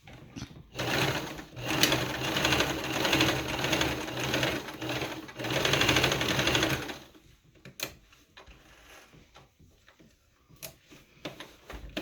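A sewing machine runs at a steady pace for long straight stitches, whirring and ticking rhythmically for about six seconds, then stops, leaving a few faint clicks and handling sounds.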